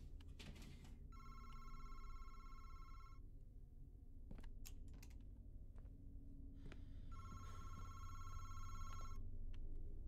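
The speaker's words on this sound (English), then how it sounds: "Where is that phone coming from?" A telephone rings inside the Madison horror video game, two long bursts of repeated electronic ringing separated by a quiet stretch, heard over a low ambient game drone with occasional clicks.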